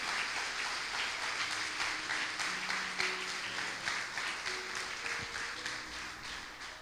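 Steady rhythmic applause from a church congregation fills the space at moderate distance, a continuous patter of many hands with a faint pulsing beat and some soft tones beneath.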